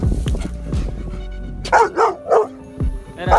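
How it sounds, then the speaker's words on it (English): A dog barks in several sharp, loud, close bursts with short gaps between them, alone with no talk. "people are attracted to a barking dog and rush to see who the intruder is"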